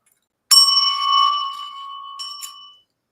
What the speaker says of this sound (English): I've always wanted one of them, like a hotel bell.